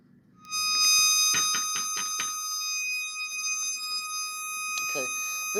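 A steady 1250 hertz tone drives a Kundt's tube, a bright continuous whistle with harmonics ringing throughout while someone speaks over it in short bursts.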